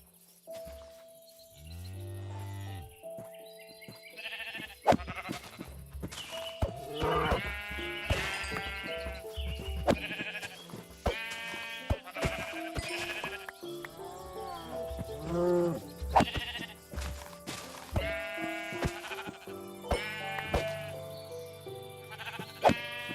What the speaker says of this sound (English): Get enough of these brown sheep.